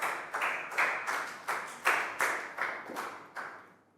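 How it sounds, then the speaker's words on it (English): Classroom applause for a primary school student after answering a geometry question, a run of about eight to ten quick bursts of clapping from a small group of children, fairly close and bright, fading out at the end. "Big round of applause for Prel"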